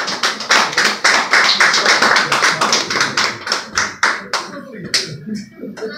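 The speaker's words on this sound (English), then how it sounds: "a round of applause" A round of applause at a lecture, fairly close and loud, with sharp individual hand claps in a rhythmic pattern that thins out toward the end.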